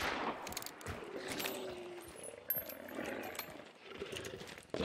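Gunfire in the Hunt: Showdown video game, with sharp, fairly faint shots cracking at a distance amid low ambient rumble.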